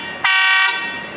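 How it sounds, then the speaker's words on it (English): A small charter boat on the water sounds one loud, sustained horn blast that starts abruptly, holds steady for about half a second, then fades, with no talk. "that little charter boat over there just honked and scared me"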